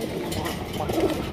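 Raj Golla pigeons coo softly in a low, throaty murmur close by, faint under background noise, with a few brief rounded coos near the end of a short stretch.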